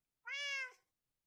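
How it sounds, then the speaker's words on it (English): A single short cat meow from a video game, clear and tonal, rising slightly then fading, alone against silence. "the constant meowing will be annoying"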